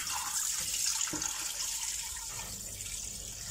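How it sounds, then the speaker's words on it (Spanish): Water pours into a cooking pot of kale stew with pork rib, ham and meat, a steady splashing hiss from a tap or jug, fairly quiet and close, with no voices. "Le vamos a añadir agua."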